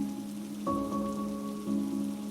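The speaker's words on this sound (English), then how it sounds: "The rain hadn't stopped and the streets had started to flood." Steady rain patters on a surface throughout, a continuous soft hiss with a low hum beneath it.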